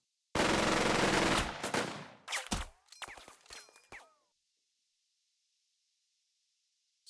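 Machine gun fire in the WWII turn-based tactical game Burden of Command: a loud, dense sustained burst, then several shorter bursts and single cracks that die away into silence.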